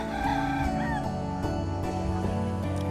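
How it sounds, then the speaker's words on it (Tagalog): Birds chirp and call in short bursts over a dense, busy background at a campsite in the Philippines, with a rooster-like call among them. "maririnig mo yung huni ng mga ibon like this one"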